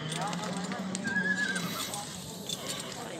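A horse at a busy livestock bazaar in Osh gives a short neigh amid steady outdoor market clamour, with people talking nearby throughout.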